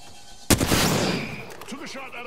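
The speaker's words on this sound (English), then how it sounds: "Took a shot at a cargo bot." A single sharp gunshot in Apex Legends, fired at a cargo bot, loud and close, with a short ringing tail and faint voice sounds as it fades.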